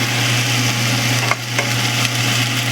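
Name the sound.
masala frying in oil while cooking Dhaba-style chicken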